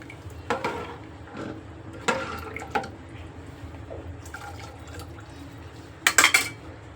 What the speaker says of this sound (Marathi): पाणी घाला.